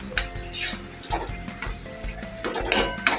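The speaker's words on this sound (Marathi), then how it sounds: "तेलावरती आपण हे 2-3 मिनटं छान मिक्स करून घ्यायचं" Raw, unroasted onion-coconut-garlic masala paste sizzles in oil in a pan for a Bombay duck curry, with a continuous crackling fry under repeated scraping and clinking stirs of a spoon.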